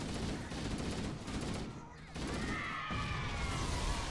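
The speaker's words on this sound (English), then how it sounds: "He threw a grenade, nearly killed me." Explosions and gunfire from a grenade blast in Halo: Combat Evolved, a dense burst of booming noise with a brief lull midway before rumbling resumes.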